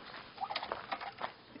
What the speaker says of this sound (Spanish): Aquí el patito.